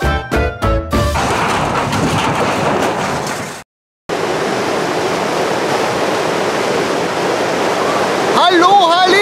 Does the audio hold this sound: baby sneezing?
no